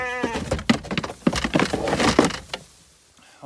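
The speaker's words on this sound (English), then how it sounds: "Come on, sheep, sheep, sheep." Farm sheep bleat in short, close calls, several overlapping cries in a burst before fading, with a brief rattle like a gate or pen at the end.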